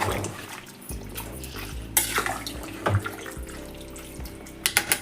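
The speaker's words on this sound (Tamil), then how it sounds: "ஓரளவுக்கு தான் தண்ணி ஊற்றணும்" Water is poured into a pressure cooker holding country chicken pieces for soup, a soft steady trickle with a few splashy clunks and clatters near the end.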